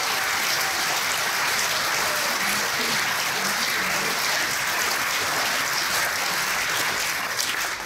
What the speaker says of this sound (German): Riesen Applaus für dich.